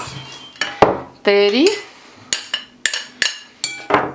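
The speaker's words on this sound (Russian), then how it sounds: "теперь все эти овощи соединяю в одну емкость" Chopped vegetables, including eggplant, tomato and walnut, are tipped into one container with a series of sharp clinks and knocks against the dish. The clatters come in separate bursts, close and fairly loud, while a voice counts aloud between them.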